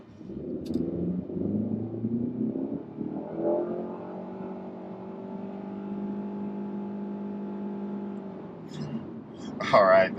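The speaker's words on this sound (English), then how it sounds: "so I'm just gonna floor it" A 2023 Nissan Altima SR with a CVT accelerates at full throttle from a standstill, its engine rising to a steady droning whine that holds flat for several seconds, heard from inside the car.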